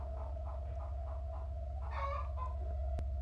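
A hen clucks in the horror game Escape The Horror Hospital, a run of short rhythmic clucks over a steady droning background, rising into a louder squawking burst near the end.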